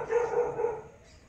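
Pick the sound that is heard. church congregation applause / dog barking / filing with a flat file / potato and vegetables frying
dog barking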